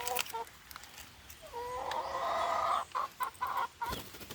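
Chickens in a small poultry farm giving a few faint clucks, then a drawn-out call and a series of short, choppy clucks close by, with no talk over them.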